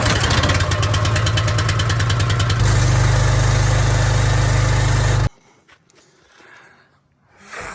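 Pressure washer mounted in a van rig runs loud and close, a steady motor drone with a pulsing rhythm that shifts pitch partway through, then cuts off abruptly, leaving quiet background noise.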